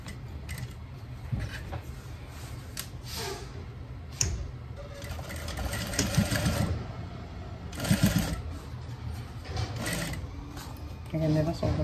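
A sewing machine stitches a skirt hem in quick whirring bursts, stopping and starting with clicks between runs, close up while someone talks over it.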